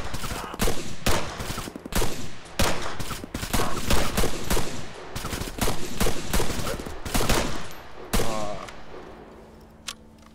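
Rapid gunfire in Arma 3 with a zombie sandbox mod, loud close bursts of automatic shots in quick clusters, then a pause and a few scattered shots at the end.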